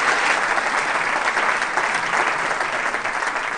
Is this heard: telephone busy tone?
no